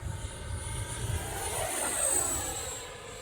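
A 64 mm electric ducted fan RC model jet roars past at full throttle, its high turbine-like whine rising and swelling as it passes overhead, with no voices.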